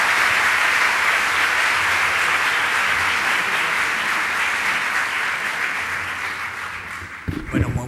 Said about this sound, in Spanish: les pido que le demos un aplauso de bienvenida a Ricardo